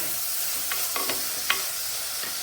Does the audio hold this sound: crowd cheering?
no